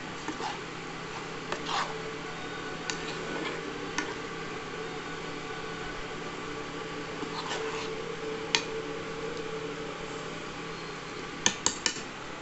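A sweet broad bean curry with tamarind is stirred in a pan on the stove, giving scattered metallic clinks and scrapes against a steady low simmering hiss.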